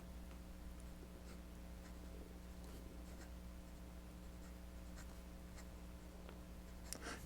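Japanese medium nib of a Namiki Yukari Royale fountain pen, inked wet, scratching across paper in soft intermittent strokes, faint and close over a steady low background hum.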